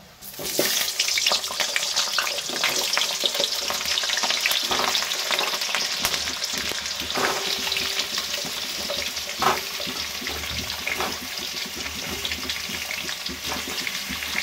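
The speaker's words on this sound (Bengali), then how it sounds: "আলুগুলো সবার প্রথমে ভেজে নেব" Cut potatoes frying in hot mustard oil in a wok for chicken curry, a loud continuous sizzle and crackle with stirring scrapes and clatter throughout, no talking.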